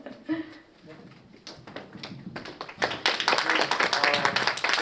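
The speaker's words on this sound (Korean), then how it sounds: "다시 한번 큰 박수 부탁드리겠습니다" An audience at a presentation on biochar and carbon credits breaks into applause, clapping starting scattered and faint under speech, then swelling into a loud, dense wash.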